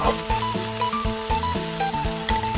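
Minced pork being stir-fried with seasonings for Thai basil pork (kaprao), a steady close sizzle with repeated scraping stirs in rhythm throughout, with no talking.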